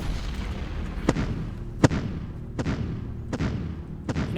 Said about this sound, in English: If we can get a nice artillery fire on them, that's exactly what I'm going to do. So let's just get a nice barrage.